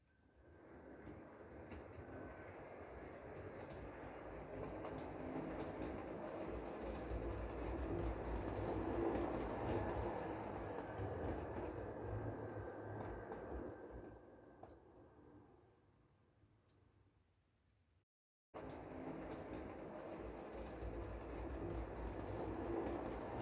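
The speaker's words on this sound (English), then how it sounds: "I will bring in the passenger train into the station first" An HO scale model train rumbles steadily along the track with a continuous mechanical whir, swelling louder midway, then fading before a brief cut and resuming.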